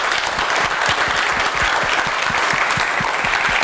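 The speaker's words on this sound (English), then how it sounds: "So please, a round of applause" A live audience at the first Macstock conference applauds a podcast panel, with a dense, steady wash of many hands clapping throughout at close range.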